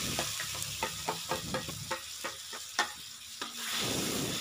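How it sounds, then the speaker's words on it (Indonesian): Ground spice paste sautéing in hot oil in a pan, a steady close sizzle broken by a run of sharp spoon-on-pan scrapes and taps as it is stirred, the frying hiss swelling louder near the end. "panaskan secukupnya minyak untuk menumis bumbu-bumbunya"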